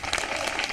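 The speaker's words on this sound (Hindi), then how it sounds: "मैं चाहूंगा एक बार सब जोरदार तालियां बजाएं।" A university audience at a voting-awareness event in Bhopal gives a brief, loud burst of clapping, dense and fairly close, lasting under a second.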